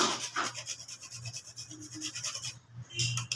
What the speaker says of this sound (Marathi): आणि आता हे जे जायफळ आहे, जायफळ थोडंसं हलकंसं किसून घ्यायचं